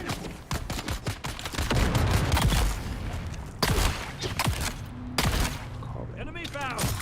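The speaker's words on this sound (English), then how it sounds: "Oh, they're throwing grenades up here." Repeated sharp blasts and gunfire-like bangs from grenades thrown in the survival game Dune Awakening, dense bursts throughout, loud and close, mixed with game effects and players talking.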